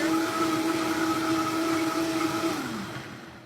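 A blender whirs steadily at high speed through tomatoes and other salsa ingredients, a loud, even motor drone that spins down near the end.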